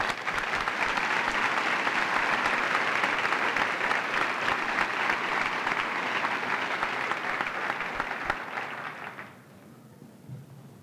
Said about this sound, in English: May we please have a nice round of applause.